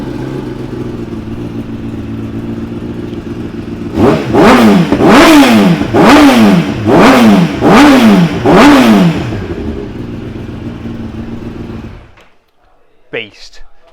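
A 2018 Kawasaki ZX10RR Winter Test Edition sport bike idles close by, then snaps through six quick, loud throttle revs in a row before settling back and shutting off.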